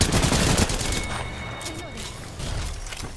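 Gunfire crackles in the video game Apex Legends, with dense bursts of shots opening the moment before fading into a rumbling, noisy firefight.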